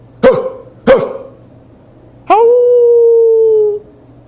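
A voice imitates hounds: two short, sharp barks, then a long, sustained howl that holds steady and fades, loud and close.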